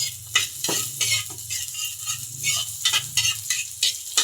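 Garlic frying in a little cooking oil while being stirred in a pan, with a steady close sizzle and repeated scrapes and clinks of a utensil against the pan.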